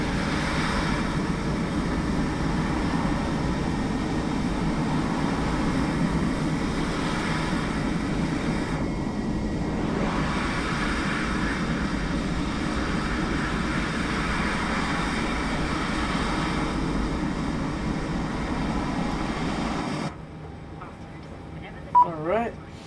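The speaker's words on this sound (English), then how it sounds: "The engine sounds on the IAE just sounds beautiful." Steady engine drone of an Airbus A320 with IAE engines in a flight simulator game, a continuous broadband roar lasting about twenty seconds before cutting off, followed by a few faint clicks and thumps.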